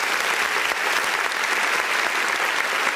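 A dense, even wash of audience applause fills the room from start to finish, loud and continuous with no voices over it.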